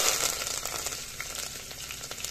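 Garlic cloves, curry leaves, two red chillies and coriander sizzling in hot oil in a pan, a steady crackling hiss with small pops throughout, fairly close and alone.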